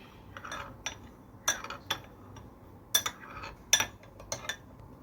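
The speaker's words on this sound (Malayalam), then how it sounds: "ഇനി നമുക്കത് നന്നായിട്ടൊന്ന് മിക്സ് ചെയ്ത് വയ്ക്കാം" Scattered clinks of a spoon against a bowl while mixing ingredients for chilli soya, irregular taps at a steady stirring pace, close and fairly quiet.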